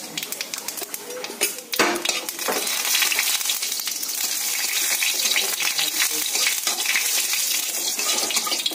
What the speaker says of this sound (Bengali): কড়াইতে তেল দিয়ে দিয়েছি। দিয়ে দেবো এই যে 2টো শুকনো লঙ্কা, একটুখানি জিরে ফোড়ন।